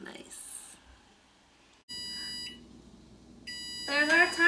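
A kitchen timer goes off while eggplant Parmesan bakes for dinner, giving two short bursts of steady electronic beeping separated by a quiet pause, and a voice follows.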